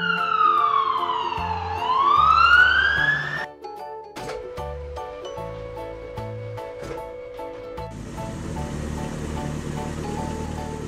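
A toy police siren wails up and down in electronic tones, then gives way to bright, jingly toy sound effects and music; no talking.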